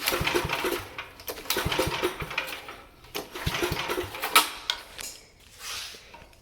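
A 1966 Sears Suburban lawn tractor's small engine revs up close by, loud and rattling, with clanking mechanical noises and uneven surges in pitch.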